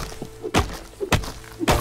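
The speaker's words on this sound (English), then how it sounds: "Let's chop down this tree over here real quick." Three heavy, evenly spaced wooden thunks ring out as a tree is chopped down in the video game Enshrouded, each blow close and solid against quiet background.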